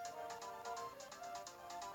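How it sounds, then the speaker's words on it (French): A home telephone rings faintly in the background, a repeating electronic trill in short evenly spaced pulses under game audio. "Le téléphone de la maison, il sonne."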